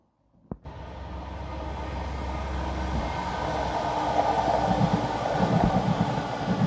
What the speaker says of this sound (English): there he goes, train with the lights on